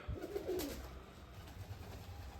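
Pigeons coo softly in a single low, throaty call near the start, fairly close but quiet, followed by faint outdoor ambience with no talking.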